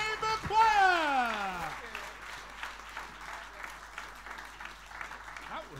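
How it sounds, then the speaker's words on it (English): An audience applauds the Dubai College Chamber Choir at a gala concert in a university hall, with dense sustained clapping filling the room while a person talks over it at the start. "I think they deserve a longer round of applause"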